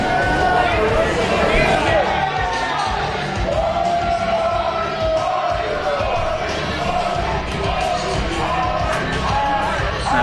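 Crowd at a Spokane Anarchy Wrestling live show makes a steady, loud roar of cheering, yelling and whoops, a dense babble of many voices that holds for the whole stretch.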